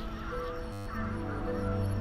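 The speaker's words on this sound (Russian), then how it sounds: "Вот какие-то, видите, странные гуси." Geese honking in the video game Ori and the Will of the Wisps, loud overlapping honks close up with a brief dropout in the middle before the calls resume.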